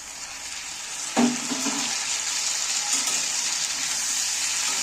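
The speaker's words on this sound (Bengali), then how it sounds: "এইবার আমি কাটা টমেটোগুলো তুলে দিচ্ছি।" Chopped tomatoes drop into a pan of frying onions and potatoes, setting off a sharp burst of sizzling followed by a steady, loud frying hiss and some stirring, with no talking.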